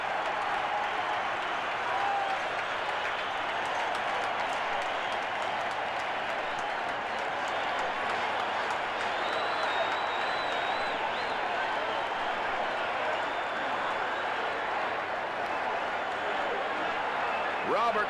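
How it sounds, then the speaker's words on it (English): A packed stadium crowd roars and cheers without pause at a 1979 New York Giants versus New Orleans Saints football game in the closing seconds, a dense, distant wall of noise with a commentator talking over it. "This crowd is going crazy."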